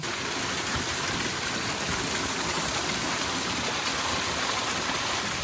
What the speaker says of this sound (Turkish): Şelale mi diyorlar buna? Küçük minik şelale mi?